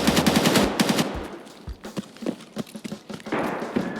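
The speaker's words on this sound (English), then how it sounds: "Dude, where were those shots?" Gunfire in Escape from Tarkov comes as rapid automatic bursts of loud, close shots, broken by short pauses, with single cracks and a final flurry.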